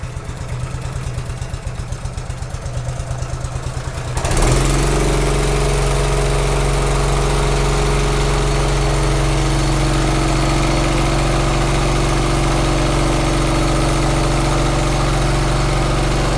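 Motorcycle engine running while the bike is being washed, a steady close idle with a constant low rumble and hum after a shift in tone partway through, loud and continuous with no talk.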